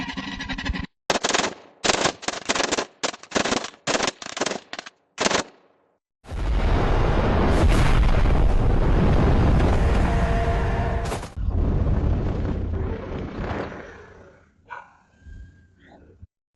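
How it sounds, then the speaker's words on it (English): Musket gunshots and explosions: a rapid, choppy volley of sharp shots gives way to a long, loud roaring blast that slowly fades into a rumbling tail. "The first gunshot marked the end of an era"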